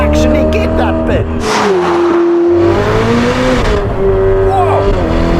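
A Novitec-tuned Ferrari F8 Spider supercar with 802 horsepower going to the rear wheels revs hard, its loud, close engine note climbing and holding, with a brief dip before rising again.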